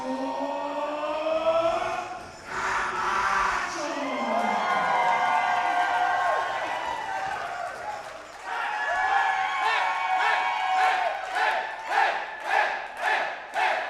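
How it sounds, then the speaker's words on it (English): A live lucha libre wrestling crowd at the Don Quixote roars and cheers loudly and continuously, with rising shouts and rhythmic chant-like swells toward the end. "Absolutely electric crowd here at the Don Quixote."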